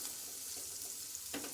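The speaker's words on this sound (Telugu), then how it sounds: "పచ్చిమిరపకాయలు, కరివేపాకు, ఇవి కూడా బ్రౌన్ కలర్ వచ్చేదాకా వేయించుకోవాలి." Onion, potato, green chillies and curry leaves fry in hot seasoning oil on a low stove, giving a faint, steady sizzle with soft stirring sounds and no talk.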